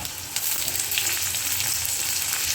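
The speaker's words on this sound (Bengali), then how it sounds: "পেঁয়াজটা আমরা একটু লাল করে ভেজে নিচ্ছি।" Chopped onion and tomato frying in oil in a pan for green paneer curry, a continuous close, loud sizzle with bright spattering crackles and no talk.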